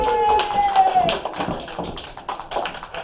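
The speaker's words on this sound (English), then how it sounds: "Thunderous applause!" An audience at an improv comedy show claps for the troupe as they come on stage, a scattered mix of close claps and taps with a high whooping voice early on and a little talk underneath.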